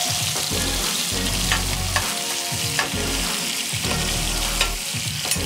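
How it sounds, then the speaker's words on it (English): Thin-sliced steak with plenty of fat sears in a hot skillet for Philly cheesesteaks, giving a loud, steady sizzle close by, with periodic low bumps and scrapes as the meat is stirred and moved; no talking. "We'll try and get a nice bit of a sear on one side, and then we'll flip them over."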